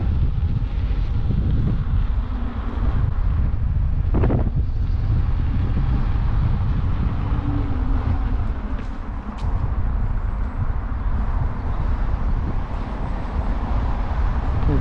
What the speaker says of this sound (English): That wind's picking up as well,